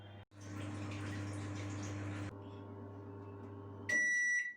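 An oven runs with a steady hum while cupcakes bake inside, the drone shifting pitch partway through before a loud, sustained electronic beep at the end.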